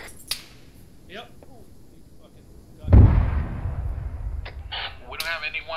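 Gunshot from a hostile shooter in a military squad video game, one loud booming report with a long rolling tail, set among quieter distant pops and brief radio-style chatter.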